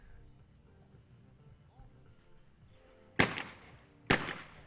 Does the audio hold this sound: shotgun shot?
yes